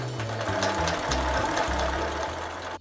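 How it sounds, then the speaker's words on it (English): A sewing machine runs steadily, stitching along an existing seam line on skirt fabric to close a slit, a continuous motorized whir with slight speed changes and no talk. "I'm going to sew right on top of that line so that you really can't even tell."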